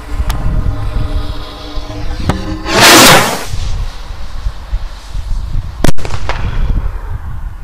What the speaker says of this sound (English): So we'll go and launch some rockets.